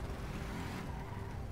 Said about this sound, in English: We'll hop in, put it in drive.